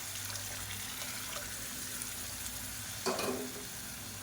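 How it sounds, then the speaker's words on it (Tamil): Water pours into a hot pot of lentils for sambar with a steady hiss and sizzle, then a brief louder gush near the end; no voices. "இப்போ தண்ணி சேர்த்துக்கலாம்."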